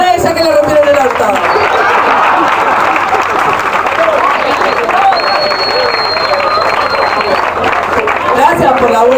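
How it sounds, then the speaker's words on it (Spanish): An audience at a live Argentine show applauds a performer, with steady, dense clapping and crowd noise filling the whole stretch, loud and close, mixed with murmuring voices. "¡Aplausos para ella que la rompió en el orto!"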